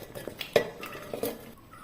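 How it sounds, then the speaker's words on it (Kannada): Chopped beetroot pieces tumble into a mixer jar in a home kitchen, giving a few quick clinks and clatters of hard chunks against the jar, close and fairly quiet. "ಮಿಕ್ಸರ್ ಜಾರಿಗೆ ಕಟ್ ಮಾಡಿದಂಥ ಬೀಟ್ರೋಟನ್ನು ಹಾಕಿಕೊಳ್ಳ."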